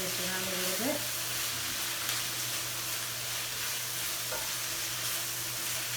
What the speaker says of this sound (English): I'm just going to stir this around a little bit.